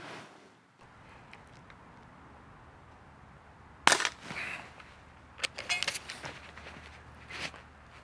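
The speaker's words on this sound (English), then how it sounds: "I'm now going to shoot at these knockdown discs," GAMO PR-45 air pistol fired at metal knockdown discs outdoors: a sharp, loud crack near the middle, then a cluster of snappy pops and metallic ticks a second or two later over quiet background hiss.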